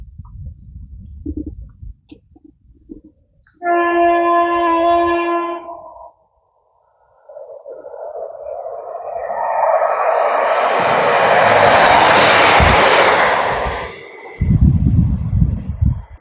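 A train passes at speed through a station at night on a late-evening line, a broad rising roar that builds over several seconds and fades, preceded by a short tonal horn-like burst, with no talk.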